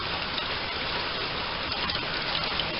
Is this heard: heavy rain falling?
yes